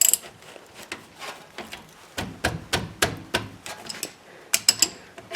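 Ratchet wrench cracking loose the rear brake caliper bolts on a 2017 GMC Acadia Denali, bursts of sharp close clicking with a few louder metallic clacks and short pauses between.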